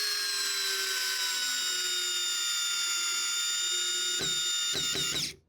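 A Hanabi LJ2022 cordless drill with a hybrid chuck, set to torque 20 with a PH3 bit, whines steadily at high pitch while driving a screw into sacrificial wood, then stutters through a few clicking bursts before stopping.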